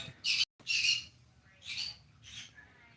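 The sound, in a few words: pet birds squawking for attention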